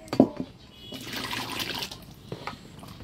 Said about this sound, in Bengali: জল টল শুদ্ধ একবারে ঢেলে দিই।